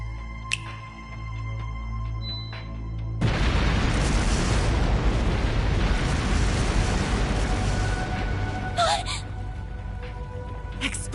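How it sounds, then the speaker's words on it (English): Explosive artifacts scattered through a palace in Trails through Daybreak detonate as a game fireworks show, a sudden loud broadband roar from about three seconds that rumbles on steadily with scattered bright crackles and pops near the end. "Explosive artifacts!"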